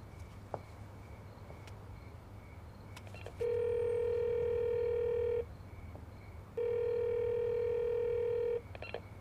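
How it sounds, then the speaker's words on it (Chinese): On an unanswered phone call, two long, steady ringback tones sound, each about two seconds, separated by a pause, over a faint background hiss. "电话一直都打不通"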